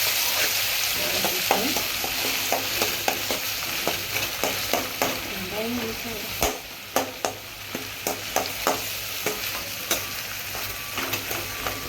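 Thinly sliced onions sautéed for crab gravy, a loud, steady sizzle under repeated rhythmic spatula knocks and scrapes against the pan, close by and with no voices.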